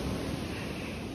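Ocean waves wash onto a shore at a sunny late-morning snorkeling spot, a steady broadband rush with no voices over it.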